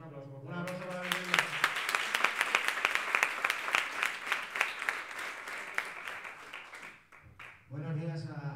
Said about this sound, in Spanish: Un aplauso, por favor. Un aplauso para el director.